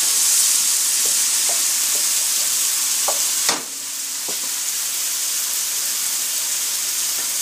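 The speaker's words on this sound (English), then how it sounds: "I'm just stir frying all this on high flame for about 5 minutes" Keema stir frying over a high flame, a steady loud sizzle and hiss running throughout with a few soft spoon scrapes and clicks, one sharper knock midway.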